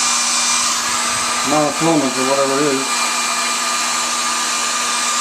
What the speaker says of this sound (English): we'll get the air dryer now and put on that.